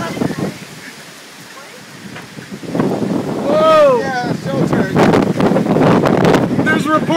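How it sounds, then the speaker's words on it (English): Strong gusting wind buffets the microphone during a near-tornado storm in Kenosha, roaring close and loud, with excited voices talking over the gusts. "Reports of massive wind."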